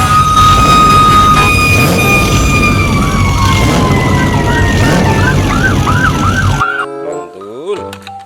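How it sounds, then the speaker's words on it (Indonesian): A toy fire truck plays a loud electronic siren, a wailing tone that shifts into rapid whooping sweeps before cutting to a thinner, quieter siren burst at the end. "Ini ada mobil pemadam kebakaran."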